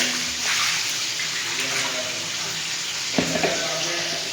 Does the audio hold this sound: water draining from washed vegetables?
yes